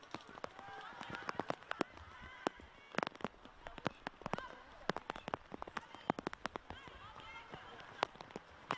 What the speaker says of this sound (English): I think the rain may be here to stay in varying degrees for the next